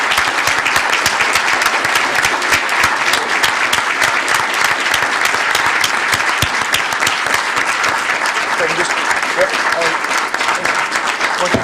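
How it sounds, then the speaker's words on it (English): A school board meeting audience gives loud, sustained applause to welcome a student, a thick, continuous roll of clapping lasting over ten seconds with no talking on top. "Please welcome, with much applause,"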